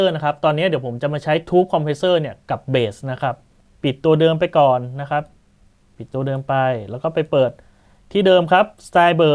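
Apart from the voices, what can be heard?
No everyday noise stands out behind the speech.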